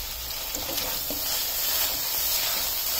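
Beetroot leaf sabji stirred in a pan after a sprinkle of garam masala, giving a steady close sizzle with soft scraping strokes throughout and no voices.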